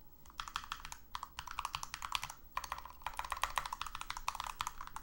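Rapid typing on a computer keyboard, close and crisp, keys clattering in quick bursts with a brief pause midway, no talking.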